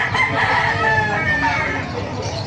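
A white Kelso rooster, about a year old, crows loudly and close at a poultry market stall, one sustained call with a harsh, drawn-out tail over busy background chatter.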